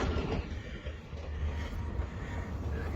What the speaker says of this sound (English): Over the train tracks. Train coming.